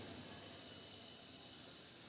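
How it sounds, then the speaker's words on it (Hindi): Cumin, garlic, green chili and asafoetida tempered in hot oil for spinach dal make a steady, soft sizzling hiss that runs the whole short stretch without a break. "तो मैं यहाँ थोड़ा सा जीरा और लहसुन मिर्ची और हींग का तड़का लगाऊंगी।"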